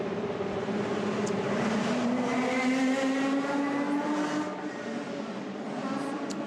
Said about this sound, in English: that's a V12, I would say. Making a nice racket